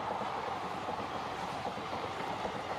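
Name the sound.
Indian freight train hauled by WDP4 diesel locomotive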